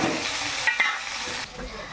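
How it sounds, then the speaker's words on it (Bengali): Sliced onion tipped onto potatoes already frying in a pan and stirred, a close, steady sizzle with a brief scrape partway through and the frying settling softer toward the end, no talk. "এবার আমি কিন্তু আলুর মধ্যে দিয়ে দেবো এই যে পেঁয়াজ কেটে রেখেছি একটা সেই পেঁয়াজ"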